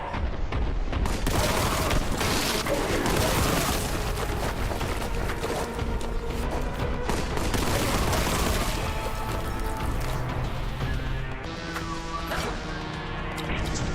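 Rapid gunfire and crashing impacts from the Warhammer 40,000 Boltgun video game, a dense, continuous barrage of shots and smashes with whooshes, loud and close throughout.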